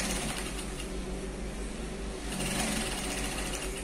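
A sewing machine stitching trousers, a fast, steady mechanical whirr with a rapid needle rhythm, running continuously and fairly quiet, with no voices.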